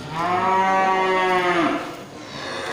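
A single long, deep moo from a slaughter-ready cow, loud and close, with no other sounds around it.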